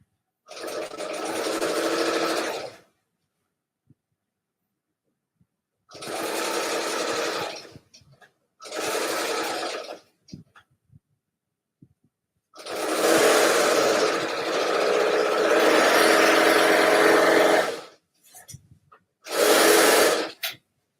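A domestic sewing machine stitches white and pink quilt pieces together with right sides facing, running in several separate bursts of steady, close, motorized whirring divided by short pauses, with one longer stretch of continuous stitching.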